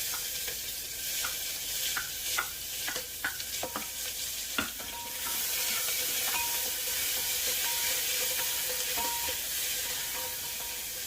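Ginger, green chili and onion fry in a pan with a steady close sizzle, broken by stirring clatters and scrapes in the first half, then a denser continuous hiss of frying; no one speaks.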